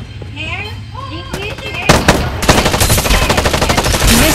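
Heavy automatic gunfire in the mobile shooter Farlight 84, sustained loud bursts with sharp cracks, opening over quieter game sounds and chirps before the barrage takes over.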